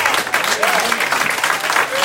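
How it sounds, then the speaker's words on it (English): A church congregation claps hands together in praise during a worship service, steady dense clapping filling the space at close range, with voices blended faintly underneath. "Give God a hand clap."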